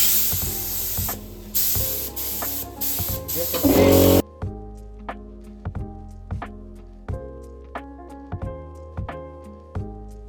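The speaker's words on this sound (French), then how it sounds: "On va faire une fine couche là." An aerosol spray can lays a thin coat of paint on a car bumper in loud hissing bursts, then the spraying stops and quiet clicking and handling noises follow.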